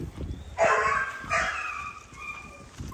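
A dog barks at a camp setting, a couple of loud, close barks with a brief yelp-like tail, over low background rumble and no talk.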